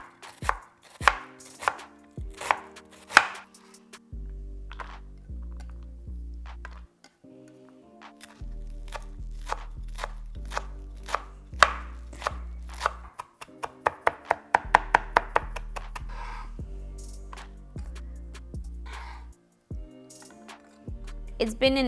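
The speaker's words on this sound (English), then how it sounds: "I'm gonna chop up the cilantro and the onion." Knife chopping cilantro and onion on a cutting board for beef cheek tacos, with steady rapid rhythmic strokes in bursts, close and fairly loud over a low music bed.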